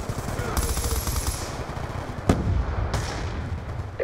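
Gunfire in the video game Call of Duty: Black Ops 2, heard as bursts of automatic fire with a few sharper distinct shots over a steady game background, moderately loud, with someone speaking Portuguese at times.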